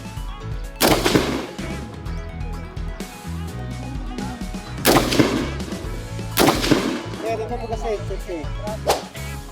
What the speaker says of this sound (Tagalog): tuloy pa rin ang inyong kawal sa pag-i-aim at pagpapaputok